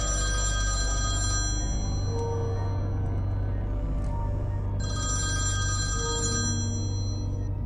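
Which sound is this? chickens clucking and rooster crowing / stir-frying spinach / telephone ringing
telephone ringing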